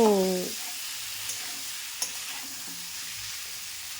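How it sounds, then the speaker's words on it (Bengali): Cauliflower and potatoes fry in spice masala, giving a steady close sizzle with occasional faint taps from stirring, after a short ringing tone at the very start. "ফুলকপি আলুগুলোকে বেশ ছেড়ে দিলাম এবার ভালোভাবে ওই মশলাতে কষিয়ে নিতে হবে"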